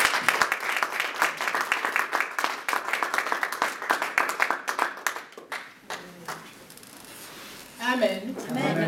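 A church congregation at a Sunday service applauds in praise, a dense burst of close clapping that thins out and fades, followed by a few scattered claps and a voice.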